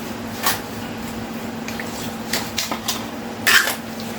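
Cement being mixed with water by hand, wet squelching and scraping sounds in irregular bursts over a low steady hum, close by and without talk.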